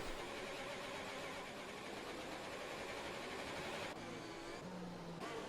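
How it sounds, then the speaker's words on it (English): A glitching race car engine in a racing video game produces a dense, constant droning roar at low level, with a slight shift in texture near the end and no speech over it. "Yes, he does have the engine glitch."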